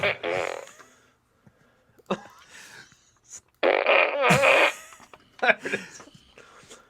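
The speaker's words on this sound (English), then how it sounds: "Is this segment now been the most that fart gun has ever been used, Eddie?" A toy fart gun sound effect fires in short, rude bursts between bits of casual studio banter, with a couple of loud blasts near the middle and smaller ones near the end.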